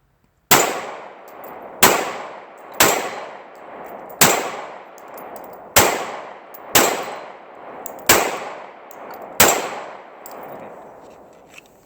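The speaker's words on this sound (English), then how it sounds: "so let's do a little shooting here." Nine pistol shots fired at targets outdoors in winter by a shooter wearing thin insulated gloves, each a sharp loud crack with a short decaying ring, spaced roughly a second apart with no talking.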